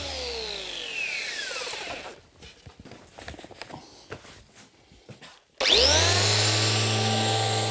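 A carpenter's power sander on an inlaid wooden chessboard whines and winds down, followed by scraping and tapping on wood, then the motor starts up again with a steady loud hum.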